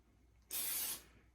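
A short, close burst of olive oil cooking spray hisses for about half a second, then stops, in an otherwise quiet barn.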